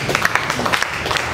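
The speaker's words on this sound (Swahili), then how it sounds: "Tupigie Yusufu makofi tena." An audience claps together at a Friday church service: a dense, steady patter of many hands with scattered sharper claps, filling the whole short stretch at moderate loudness.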